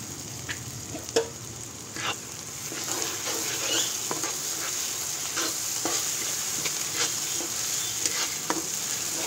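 Ginger garlic paste sizzles with onions in a pressure cooker, a steady close frying crackle broken by the scrape and tap of a spoon stirring the pan at irregular moments, with no voices over it.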